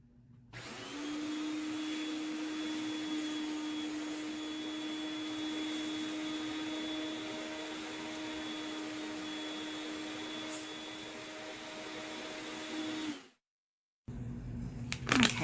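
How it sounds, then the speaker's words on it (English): A vacuum hose draws air steadily through the opening of a wet-formed leather mask, making a loud, continuous whooshing hum for about thirteen seconds before it cuts off abruptly. A brief noisy rustle follows. "You just take the vacuum hose, put it right over the opening,"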